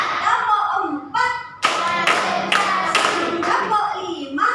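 Schoolchildren in a fifth-grade classroom clap in short bursts to a counted rhythm, the sharp broadband claps loud and close, interleaved with a teacher's voice and kids' speech.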